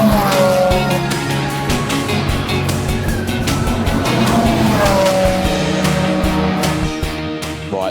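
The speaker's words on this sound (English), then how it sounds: "As you can hear, the cars are just going back out now." Race cars heading back out on a wet, slippery Brands Hatch circuit during Friday testing, engines loud and close, revving and shifting through gears with repeated sharp bursts over a constant roar.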